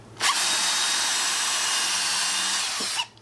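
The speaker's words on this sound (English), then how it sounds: "and you'll drill you a hole" A power drill bores a hole for a homemade clay beveler, its motor whining at a steady pitch for nearly three seconds, close and loud, then spinning down.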